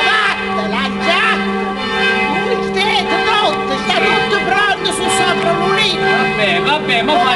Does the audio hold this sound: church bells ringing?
yes